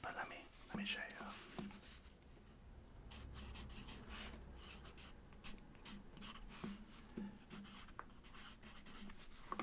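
A multicolor colored pencil scratches and scribbles across paper in close, soft strokes, running under quiet whispered talk.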